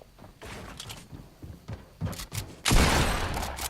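Gunfire in a Fortnite buildfight, with scattered thuds and shots building to a loud, sustained burst of noise near the end.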